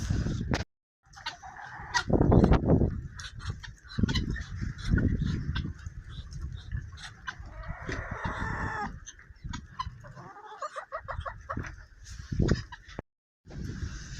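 A rooster crows loudly nearby, with clucking chickens and gusty wind mixed in, the calls rising and falling over several seconds.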